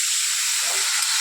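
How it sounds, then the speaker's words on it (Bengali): Water hits a pan of fried vegetables and sets off a loud, close hissing sizzle that runs steadily through the short moment, with no voices. "এর মধ্যে একটু জল দিয়ে দিচ্ছি।"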